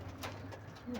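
Pigeons coo on a rooftop where large and weak birds are kept, a brief soft cooing phrase heard close and alone with no talk.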